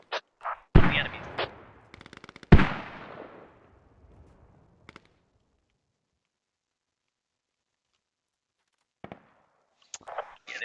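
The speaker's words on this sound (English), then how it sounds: "They sound pretty close. At least within 100, 200 meters. The shots." Gunfire crackles nearby in the military shooter Squad, a few sharp cracks and a short burst early on, then silence broken by scattered distant pops near the end.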